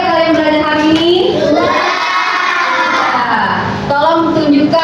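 Schoolchildren in a classroom clap and chant together in a spirited class clap, loud and close, a continuous burst of young voices and rhythmic hands filling the room.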